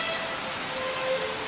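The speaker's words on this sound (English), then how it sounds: "But the rain came down." Steady rain falling on a barn, a continuous even hiss of drops with no voices, close and moderately loud throughout.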